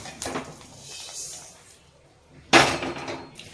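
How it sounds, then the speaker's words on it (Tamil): Roasted fenugreek and spices being pounded for homemade masala powder, a couple of sharp, bright knocking strikes with a louder hit near the end and quieter rustling between. "அப்படியே தட்டிடணும்"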